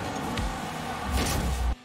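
A car blowing up in a video game with a loud, booming rumble that swells for about half a second, then cuts off abruptly into near silence.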